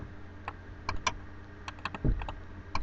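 Keys on a computer keyboard clicking in an irregular pattern of separate taps and short clusters, near and fairly quiet, with one heavier thump, entering a shortcut while setting up a Lamborghini Huracan mod for Live for Speed.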